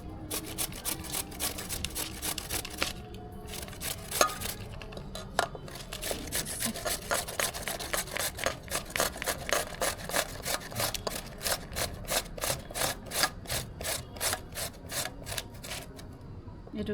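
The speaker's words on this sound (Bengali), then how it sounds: "মিষ্টি কুমড়ো আমার কুচানো হয়ে গেছে" Sweet pumpkin being grated by hand, a steady run of rough rasping strokes in a regular back-and-forth rhythm, close and clear with no talking.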